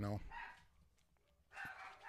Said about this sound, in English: No, they're gonna bark the whole time.